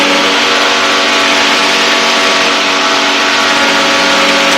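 The engine of a Challenger II ultralight aircraft drones loudly and steadily in flight, a constant close-up buzz with no talking.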